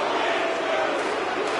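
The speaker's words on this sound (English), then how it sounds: "he's hearing it from this crowd" Arena crowd in the NHL 25 hockey video game jeering a skater carrying the puck, a steady broad roar of many voices sustained throughout at moderate loudness.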